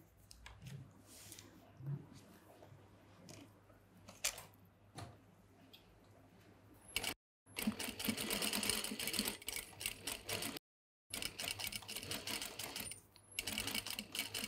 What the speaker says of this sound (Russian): Теперь мы отсюда с изнаночной стороны будем строчить 1 миллиметр побейки.